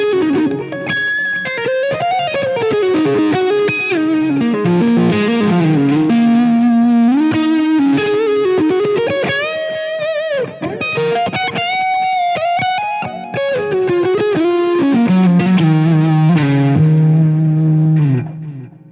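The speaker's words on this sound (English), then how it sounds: "if I feel like kind of boosting that distortion signal" Electric guitar played through a Line 6 Helix LT multi-effects unit with a boosted distortion tone, a loud, sustained, heavily driven melodic line with chorus and reverb, continuous for the whole passage with no talking.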